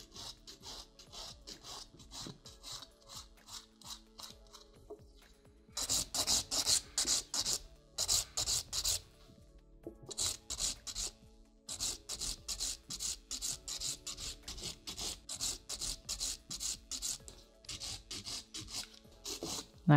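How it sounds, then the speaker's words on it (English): Rhythmic rasping of a nail file thinning acrylic nail product near the cuticle and on top of the nail bed, bursts of quick close strokes with brief pauses between sets. "I'm filing it nice and thin right here on top"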